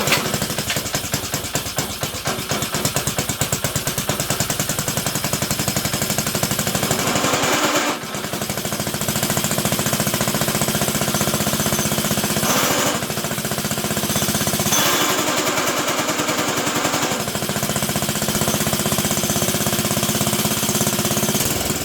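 A Trail Horse GTO 300 go-kart engine runs loud and rough, sputtering in a fast uneven chatter with brief dips and surges, close by and continuous.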